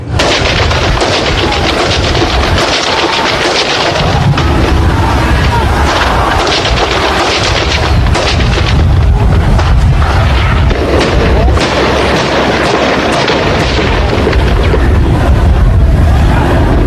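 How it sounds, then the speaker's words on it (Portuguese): Dense, loud booms and cracks of police gunfire during a riot at Alcaçuz prison, Rio Grande do Norte, echo repeatedly over a roaring, noisy background, with voices mixed in. "Mais tiros."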